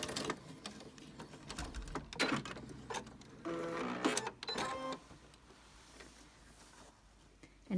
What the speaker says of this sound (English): I like to pivot and just do 2 or 3 stitches right out to the corner of the quilt.